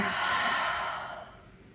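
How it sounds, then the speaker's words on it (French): A single long, audible exhale during a Pilates exercise, breathy and close, starting strong and fading gradually over about a second and a half. "On respire."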